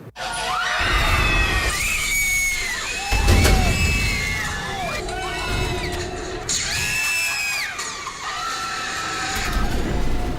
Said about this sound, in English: when the doors pop open and you hear guests screaming